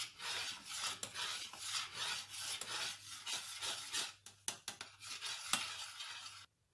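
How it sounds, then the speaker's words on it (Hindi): A spoon stirring custard in a pot, with continuous rhythmic scraping and rasping strokes against the bottom, fairly close and alone, stopping briefly just before the end. "मुसलसल चमचे को हिलाते रहना क्योंकि नीचे ना लगे"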